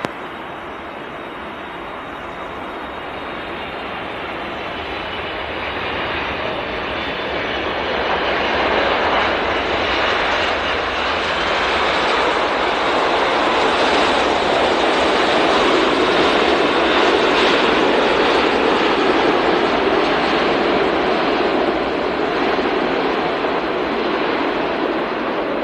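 A British Airways Boeing 747 lands at Phoenix Sky Harbor Airport, its broad engine roar swelling from a distance to a loud, sustained rush that holds steady through the rest of the approach.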